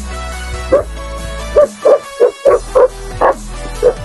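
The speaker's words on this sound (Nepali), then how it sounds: "कस्तो डेन्जर कुकुर रहेछ र बाँधेर रहेछ" A tied-up dog barks in a series of about eight loud, deep, evenly spaced woofs up close, over a steady low engine-like hum.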